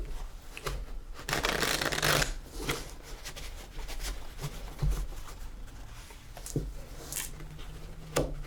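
A deck of playing cards is shuffled and handled at a faro table in an old west saloon, with close, crisp riffling bursts and scattered soft flicks and taps of cards.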